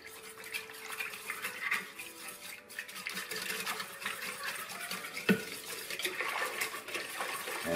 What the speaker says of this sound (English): I'm just going to whisk that a bit